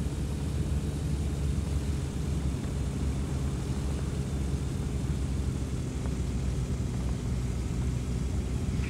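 An A22LS Foxbat light aircraft's engine drones steadily during the landing approach to the runway, a constant close, loud propeller hum with no break throughout.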